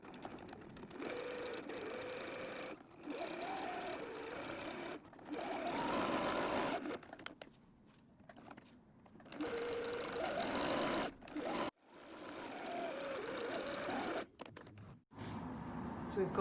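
A sewing machine stitching a half-inch seam on a madras tote bag, running in several bursts of rapid whirring stitches separated by pauses, close and clear, with a voice speaking in parts.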